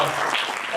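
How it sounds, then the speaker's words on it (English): A live audience applauds at a question-and-answer session, a brief, even wash of many hands clapping at moderate distance, with a voice faintly mixed in. "applause."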